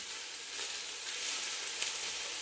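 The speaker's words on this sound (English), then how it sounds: "we're just gonna keep turning it so every part of the meatballs can be cooked" Meatballs sizzle steadily and loudly in a pan without oil as they are turned, a dense, even frying hiss with one brief sharper crackle partway through.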